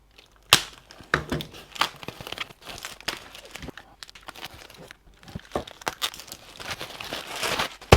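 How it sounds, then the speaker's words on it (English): Plastic packaging around motorcycle covers is pulled open by hand with no cutting, giving close, continuous crinkling and tearing with sharp rustles throughout. "let's crack on and open this without cutting the covers"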